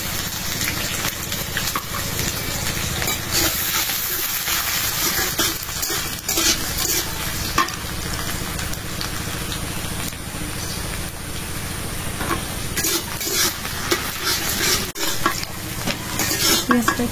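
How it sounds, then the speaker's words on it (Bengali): Chopped onions frying in a pan with cumin, a steady close sizzle broken by scraping stir strokes and occasional utensil clinks against the pan, continuing alone without talk. "পেঁয়াজটা একটু লাল লাল করে ভেজে নিলাম।"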